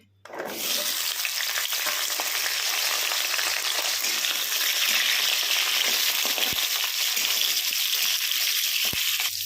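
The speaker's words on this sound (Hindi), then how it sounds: "आलू को हम गोल्डन ब्राउन होने तक भूनेंगे।" Potato pieces fry in hot mustard oil for a spicy drumstick and potato curry, giving a loud, steady, close sizzle that runs unbroken throughout, with no talking.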